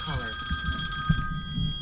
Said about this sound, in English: we interrupt this video for a very important phone call